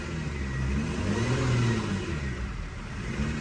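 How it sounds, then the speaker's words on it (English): A steady mid-pitched engine hum from an ambulance being driven, rising and easing slightly in a continuous drone with no voices. "Well, I'm driving an ambulance."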